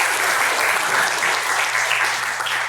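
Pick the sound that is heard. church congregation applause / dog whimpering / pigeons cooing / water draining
church congregation applause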